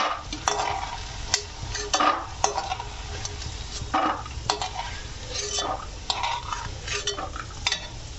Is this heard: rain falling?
no